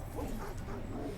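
A cartoonish dog bark from a big-puppy card in the digital card game Legends of Runeterra, one short yipping woof that is quiet and fills about a second.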